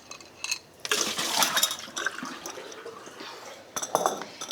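Hot water tips out of a glass jar used for pickling red onions, a close, gurgling splash and pour with a few clinks of glass, rising and fading in short bursts.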